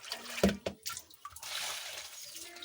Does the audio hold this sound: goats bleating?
no